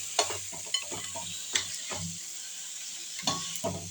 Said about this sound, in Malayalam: ഞണ്ട് നമുക്ക് ഇടയ്ക്ക് ഒന്നും കൂടി ഒന്ന് ഇളക്കി കൊടുക്കാം